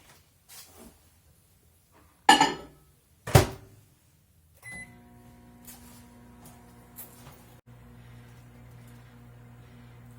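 A microwave oven heating a cup of water for simple syrup, with a couple of sharp door and button clunks first, then a steady low hum running alone.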